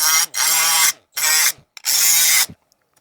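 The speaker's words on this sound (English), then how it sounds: "So we have to trim a little piece off of here" A power tool trims a plastic headlight support on a mini truck, heard as four close, loud cutting bursts of uneven length separated by short silences.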